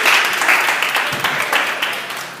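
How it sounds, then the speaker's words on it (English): Church congregation breaks into a brief round of clapping, a bright, busy patter of many hands that fades slightly over a couple of seconds. "Now, can you give them a hand clap?"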